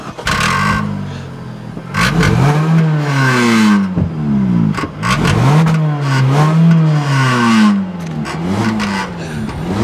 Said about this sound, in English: that is by far the wimpiest exhaust I've heard on any automobile this year